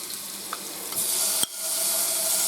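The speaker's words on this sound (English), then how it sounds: "Nice sizzle." Chicken fried rice sizzles steadily in a frying pan, a close crackling hiss with a couple of brief clinks and a stirring scrape.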